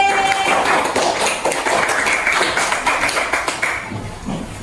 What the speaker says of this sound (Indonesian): tepuk tangan untuk kelompok B